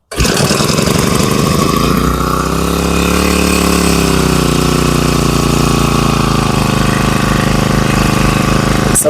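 Petrol engine on a portable power sprayer pump starting abruptly and then running loud and steady close by, a continuous throbbing idle with a slight change in pitch partway through.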